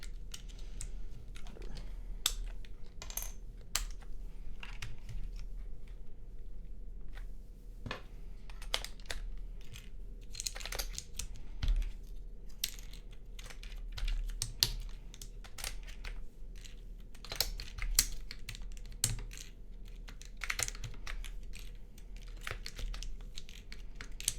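Keycaps being pressed back onto a Gehirn60 mechanical keyboard during a build, heard as a steady run of small plastic clicks and snaps over a constant low background hum, close and fairly quiet with no talk.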